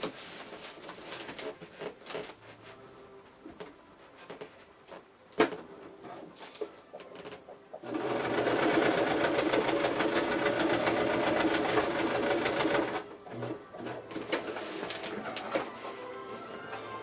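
A sewing machine stitches a line across a folded Amazon shipping bag, a steady, fairly loud whir lasting about five seconds, with quieter handling clicks and rustles before and after.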